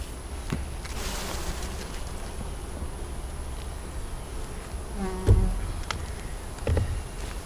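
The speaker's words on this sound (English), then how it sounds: "I'm gonna begin to shake some of these bees out." Honey bees buzz in a steady, close swarm as they are shaken off hive frames during a honey check, with a couple of sharp knocks from the frames toward the end.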